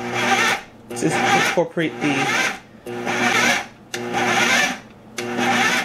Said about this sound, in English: now that I have everything in my KitchenAid food processor, let's start this on low